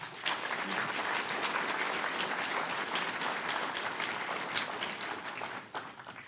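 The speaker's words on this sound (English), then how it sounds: "So a round of applause, please." An audience at an awards gala claps in broad, continuous applause, a dense wash of hands that holds steady throughout and thins slightly near the end.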